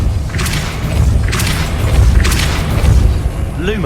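Depulso spell cast three times in the video game Hogwarts Legacy, each a loud booming burst with a bright whooshing crackle, spaced about a second apart over a low rumbling background.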